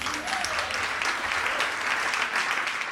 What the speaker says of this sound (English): Clap for yourselves, yo.